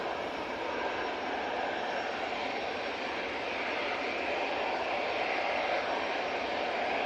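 An aircraft on its takeoff roll at Manchester Airport, a light positioning flight, gives a steady broadband jet roar heard from a distance, even in level and unbroken by talk.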